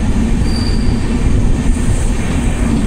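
A Konkan Railway passenger train rumbles loudly as it runs out of a long tunnel, with steady wheel roar and a brief high squeal of the wheels heard from inside the carriage.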